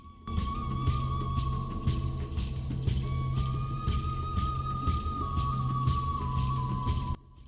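Kerala-style kuttu curry for an Onam sadhya simmers at a steady boil, giving a dense patter of popping bubbles and drips with a faint thin tone running underneath.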